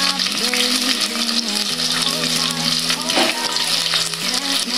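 Shallots, mustard seeds and green chillies frying in hot oil, a loud, close, continuous crackling sizzle with bursts of popping, heard alone without talk.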